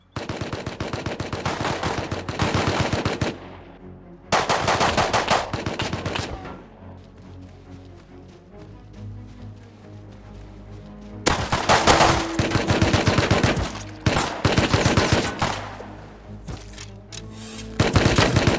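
Revolver fire in a survival shooter game, heard as loud, rapid bursts of close gunshots in several long volleys separated by quieter gaps with lingering background noise.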